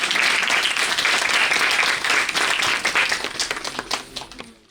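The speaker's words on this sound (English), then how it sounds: "Clap a huge round." Dense audience applause fills a scholarship disbursement function at Hans Raj Mahila Maha Vidyalaya, a women's college, loud and steady before thinning and fading toward the end.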